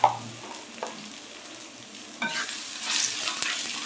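Salt, turmeric, chili powder and coriander fry in a pan for a bhuna-style egg curry, with a steady sizzle and occasional stirring scrapes. The sound is close and grows a little louder near the end.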